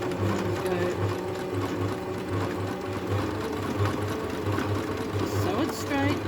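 A vintage sewing machine runs a quarter-inch quilting line, its steady rapid needle rhythm pulsing close and loud throughout, with a faint background hum and no talk.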